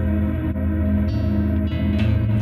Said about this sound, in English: which is a delay reverb glitchy kind of thing with some modulation thrown in there too